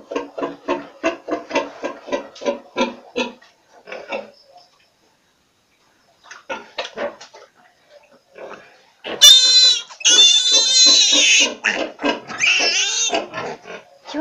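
Piglets on a farm squeal loudly and shrilly while their teeth and tails are trimmed, with the cries bursting out in the latter half after a stretch of people talking nearby.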